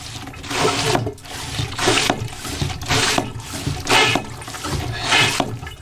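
A toilet flushing on board a boat, rushing water coming in several strong surges separated by brief pauses, close and fairly loud with no talking.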